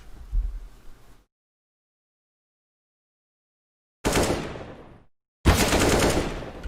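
Loud bursts of rapid gunfire, each about a second long, separated by a pause of silence and another shorter gap.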